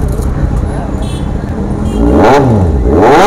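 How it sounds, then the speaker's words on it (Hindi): A Kawasaki Z800 motorcycle's exhaust is revved up close, with two sharp throttle blips rising and falling in pitch over a rumbling idle. "यहाँ पे देखिए ये Z800 है, तो इसका एग्जॉस्ट देखिए"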